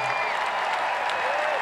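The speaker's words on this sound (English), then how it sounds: "we will give Serena Williams a big, giant round of applause" A tournament crowd applauds champion Serena Williams after the 2013 Family Circle Cup final, a dense, steady wash of clapping and crowd noise, fairly loud throughout, with faint voices mixed in.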